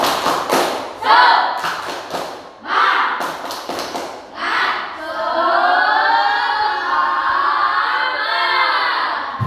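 A class of schoolchildren claps a quick, rhythmic clapping pattern of bursts and pauses, ending in a loud, sustained cheer from many voices.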